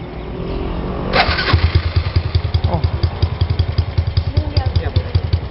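A motorcycle engine is hand-started and kicks to life after a sharp start, then settles into a loud, steady chugging idle with rapid even pulses, close by.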